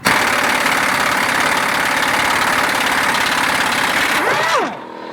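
An air impact gun rattles loudly and steadily on the control arm bolts of a Honda Accord for about four seconds, then its whine winds down as it stops.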